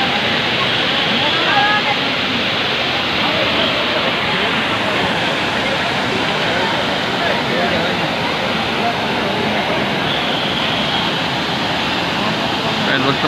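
Water pours in full spate over the overflowing waterfall at Tungareshwar, a loud, unbroken roar that fills the whole clip with no pauses.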